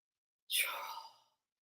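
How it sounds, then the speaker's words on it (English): A single soft, breathy exhale follows a held deep breath during a guided breathing exercise, close and quiet, lasting under a second before fading to silence. "Taking a nice deep breath, everyone hold your breath. Exhale out."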